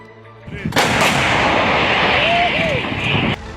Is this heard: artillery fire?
yes